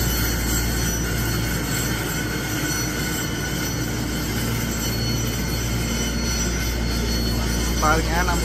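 A local train in Keelung, Taiwan rumbles steadily along the rails, a continuous loud low drone with faint wheel squeal rising near the end.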